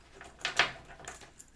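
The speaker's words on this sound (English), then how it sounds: "Comes with 2 barrel keys." Two metal barrel keys for a motorcycle disc brake alarm lock jangle briefly and softly, a few quick light clinks close by in a quiet room.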